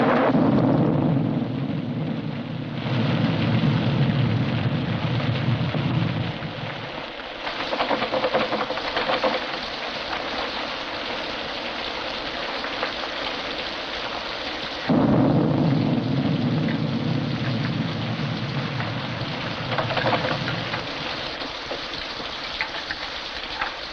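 A thunderstorm with heavy rain, a steady roaring downpour with low rumbling surges of thunder that swell and fade twice.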